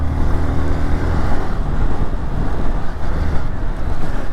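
A 200cc motorbike climbing a narrow mountain road on the way to Nathula, heard as a steady engine drone buried under loud, constant wind buffeting across the microphone.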